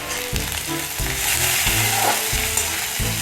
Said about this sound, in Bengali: ওদিকে তো পেঁয়াজ ভাজা হচ্ছে